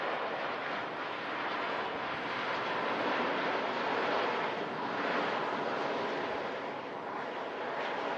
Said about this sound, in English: Nice to see the Virgin A350 coming on in next.